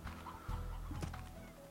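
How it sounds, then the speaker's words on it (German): Chicken in the video game Slime Rancher gives a short, close run of clucks, faint and brief. "Armes Huhn."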